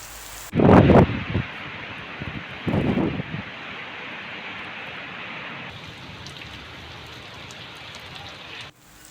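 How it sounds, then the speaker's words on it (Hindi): Continuous heavy rain pouring over wheat fields, a steady hiss of drops on crops and surfaces, broken early by two louder bursts of nearby movement or voice; the rain carries on alone until cut off near the end. "सुबह से लगातार बारिश हो रही है"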